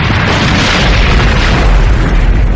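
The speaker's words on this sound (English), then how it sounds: "a terrible explosion rocked the room and the world." An explosion sound effect in a thriller audiobook: a loud, dense, rumbling boom that fills the whole stretch with heavy low roar and broadband crackle, with no narration over it.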